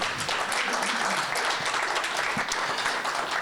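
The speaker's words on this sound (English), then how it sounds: "Join me in giving a big round of applause for Andrea." Dense, steady applause from a crowd at the Illinois State Capitol Complex in Springfield, a continuous wash of clapping at moderate volume with no pauses.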